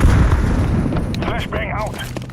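A grenade explodes in Counter-Strike 2, a loud low boom rolling under continuous game noise, with a voice talking partway through the rumble.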